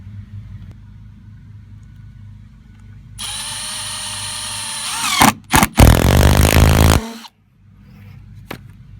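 Milwaukee M12 cordless drill driving screws into PVC deck trim, with a steady whine that rises and stalls in a few short bursts, then stops and leaves quiet room noise.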